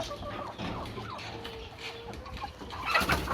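Hens and roosters in a backyard breeding coop cluck and murmur softly at close range, with scattered short calls and some rustling, the activity picking up toward the end.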